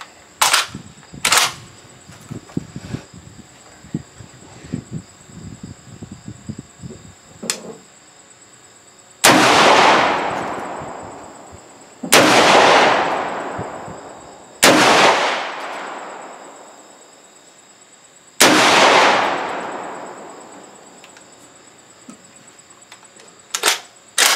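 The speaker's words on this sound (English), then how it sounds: "I got a 5-round mag with slugs and a 10-round mag with birdshot." A Tokarev TAR 12 shotgun fires slugs and birdshot outdoors. Four loud, booming shots come at spaced intervals, each with a long decaying echo, after some fainter handling clicks and clatter.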